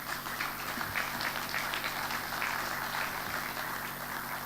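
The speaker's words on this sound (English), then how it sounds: "Siobhan, big round of applause." A conference audience applauds plenary session presidents at a road pavement event in Nice, a steady, dense wash of clapping from a large crowd that holds evenly throughout.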